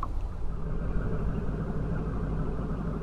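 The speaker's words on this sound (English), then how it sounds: "It sounds like a loud truck. That's actually a boat over at the boat launch." A motorboat idles at a boat launch on Phillips Lake, Maine, a steady low rumble like a loud truck heard from a distance, faint and continuous with no voices over it.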